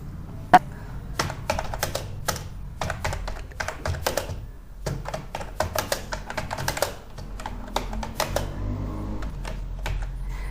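Fingers type on a computer keyboard while building Scratch blocks, with quick irregular bursts of sharp clicks and key taps close by and no voice.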